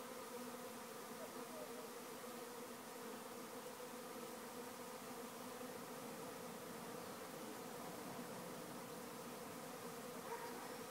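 A honeybee swarm hums at the hive entrance, a dense, steady drone of many wings droning evenly throughout, fairly faint and unbroken.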